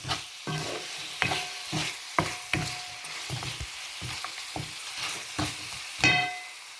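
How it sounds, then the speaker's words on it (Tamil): Pepper chicken frying in oil with steady sizzling, stirred by a utensil that scrapes and clacks against the pan about every half second, close and moderately loud. "இந்த எண்ணெயில் அப்படியே வறுவடட்டும்"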